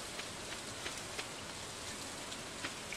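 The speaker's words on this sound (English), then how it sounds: "it's raining" Steady rain falls in the farming game Stardew Valley, a dense even hiss with faint scattered droplet ticks, continuous and moderately loud with no talking.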